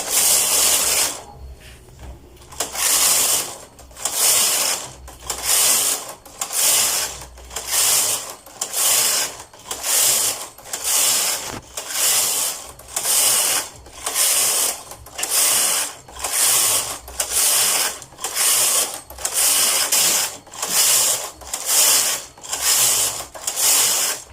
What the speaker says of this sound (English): So now the card is knitting with one color. I'm going to knit 50 rows